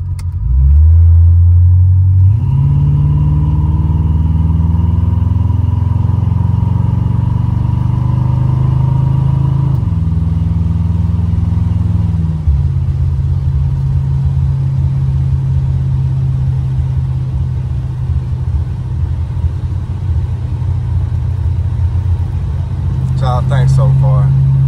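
A 1986 Buick Regal Limited fitted with a big block engine and Holley EFI drives along, its loud, steady low rumble rising at the start and then holding a constant cruising drone throughout.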